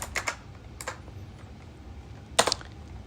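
Several quick bursts of clicking keys on a computer keyboard, close and fairly faint over a quiet room hum, with short pauses between the groups of keystrokes.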